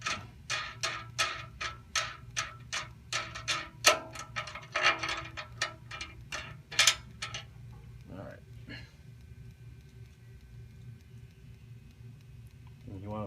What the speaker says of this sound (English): Let me take off that screw first.